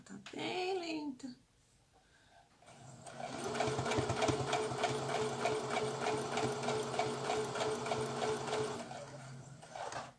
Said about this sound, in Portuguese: A minha filha tava mexendo na máquina, tá bem lenta